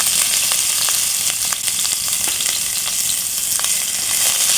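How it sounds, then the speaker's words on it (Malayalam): A teaspoon of chopped garlic frying in hot oil, a dense, steady sizzle with scattered pops and crackles, loud and close throughout with no talk. "ഓയിൽ ചൂടാകുമ്പോൾ നമുക്ക് 1 ടീസ്പൂൺ വെളുത്തുള്ളി മുറിച്ചത് വേവിയിടാം"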